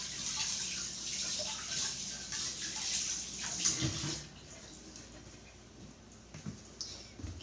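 Sticky hands are rinsed under a running kitchen tap while making coconut macaroons: a steady hiss of flowing water for about four seconds, then quieter splashes and drips. It is close and soft, with no talking.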